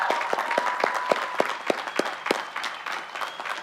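Applause at a college commencement ceremony, a crowd clapping with several distinct sharp claps near the microphone over a softer spread of hands, tapering slightly toward the end.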